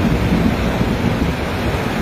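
Heavy rushing water from a spillway release at the Benito Juárez dam in Jalapa del Marqués, Oaxaca, pouring over a bridge after hard rain; a loud, steady, broadband roar with no voices.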